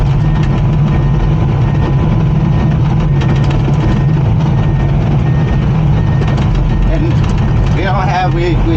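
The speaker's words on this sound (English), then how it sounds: "We're just blowing this biosand" Loud, steady machine drone of equipment blowing biosand out over a raised septic mound during installation, continuous and close, with a brief whistling tone near the end.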